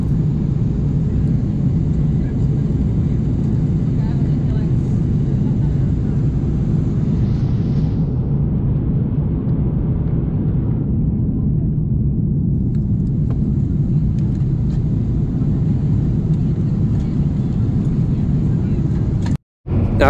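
Steady, loud airliner cabin drone during the approach to landing in Dubai after a long flight, a constant low roar with a faint higher whine that shifts partway through, ending in a brief dropout.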